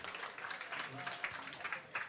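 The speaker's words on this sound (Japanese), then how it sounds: "皆さんもう一度拍手お願いします" A crowd at a Street Fighter III: 3rd Strike tournament finals claps in steady applause, dense and continuous, with a voice briefly audible over the clapping.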